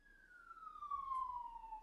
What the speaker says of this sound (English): Right as the sirens go.